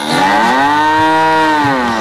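A single loud, drawn-out cow moo, close by and rich in harmonics, lasting the full two seconds.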